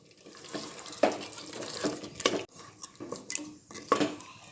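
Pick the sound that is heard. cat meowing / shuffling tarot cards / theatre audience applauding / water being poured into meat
water being poured into meat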